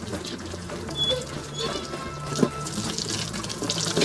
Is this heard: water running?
yes